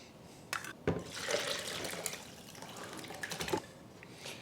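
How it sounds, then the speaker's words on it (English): Tap water runs steadily into a metal soup pot being rinsed out in a home kitchen, a continuous splashing hiss with a few louder knocks and spatters, close by and with no voices. "Before I puree the soup, I need to wash out the soup pot."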